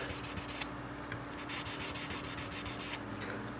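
Fine sandpaper rubs across the frets of a Danelectro guitar neck in quick, close, repeated back-and-forth scratchy strokes, quiet and with no talking.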